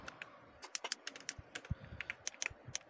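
Keys clatter on a computer keyboard as a task description is typed into a CRM form, in quick irregular bursts of close, crisp clicks with short pauses and no talking.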